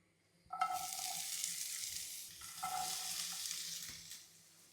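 Oil crackles and hisses loudly as onion and bell pepper hit a hot frying pan for shakshuka, a steady sizzle that swells twice with stirring and fades near the end.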